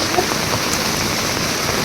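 Heavy rain pours down in Surat, a dense, steady hiss of drops drumming on surfaces close by, loud and unbroken, with a faint voice in the background.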